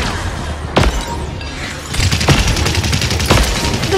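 A big gun fires in Paladins: sharp heavy blasts, then a rapid volley of shots with a few louder booms standing out, loud and close.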